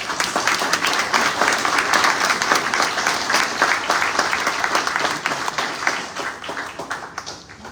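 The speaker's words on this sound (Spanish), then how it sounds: "También pido un aplauso para ellos" Audience applause fills a gallery exhibition opening, dense steady clapping from a crowd that holds for several seconds and then starts to thin out.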